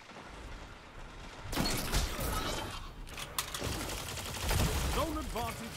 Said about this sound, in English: it is a high rate of fire shotgun